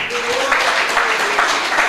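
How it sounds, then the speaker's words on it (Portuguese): A church congregation applauds for a man named Natalino at an evangelical service, with loud, steady crowd clapping and a few raised voices mixed in. "Você pode aplaudir os céus pela vida de Natalino?"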